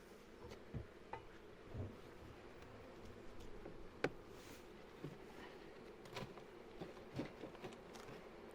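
Honeybees hum faintly during a backyard hive inspection, a low continuous buzz with scattered clicks and soft knocks of frames and tools nearby.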